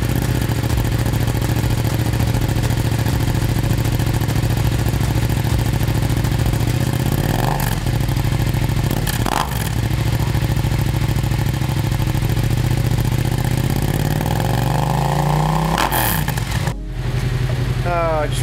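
A Yamaha FZ07 motorcycle engine starts and runs steadily at idle with a few rev blips, close by, under someone talking.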